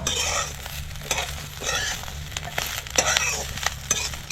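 Coriander leaves are sautéed in a pan after ginger and green chillies, a soft sizzle under repeated scraping, rustling stirs by a spatula, close and fairly quiet.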